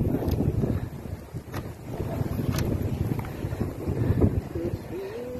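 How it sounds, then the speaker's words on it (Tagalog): Strong wind buffets the microphone in steady, roaring gusts, with a faint whistle-like tone rising briefly near the end. "Masyado kasi mahangin eh."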